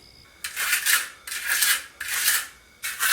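A trowel scrapes across a freshly poured Quikrete concrete basement floor in four rasping strokes with short pauses between them. The sound is close and clear, with no voices.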